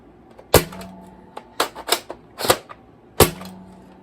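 Several sharp, springy snaps ring out from a Siren Maulr toy foam blaster fired into a sweatshirt on the floor, two loud shots with a few softer clicks and clacks between them, close by with no talking.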